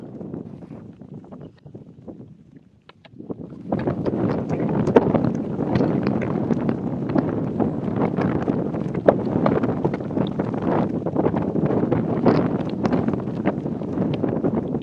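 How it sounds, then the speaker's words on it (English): Strong wind in the desert at an Abu Dhabi rally stage start buffets the microphone, a quieter rush at first, then a loud sustained roar from about four seconds on. "is really, really getting windy out there now"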